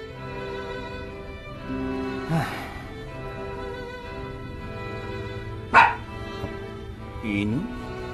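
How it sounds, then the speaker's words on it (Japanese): A small puppy yips and barks a few times, briefly and sharply, amid a drama CD scene with music and people talking around it. "犬？"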